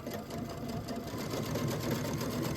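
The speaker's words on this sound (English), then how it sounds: "So I want to sew close to the edge." A sewing machine stitches fabric for a one-piece sourdough bread bag, giving a steady, rapid, close mechanical whir that builds slightly and runs throughout with no talking.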